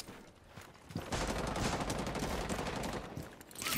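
Sustained gunfire from the video game Operation: Para Bellum, a dense run of shots starting about a second in and continuing loud and steady to the end, with no talk over it.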